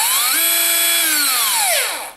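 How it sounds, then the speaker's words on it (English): A Black & Decker 20V MAX lithium cordless drill/driver (LDX120C) runs close and loud, whining steadily at speed before spinning down as the trigger is released. "Just like any other cordless drill that we have out there, you can still do it slow or fast"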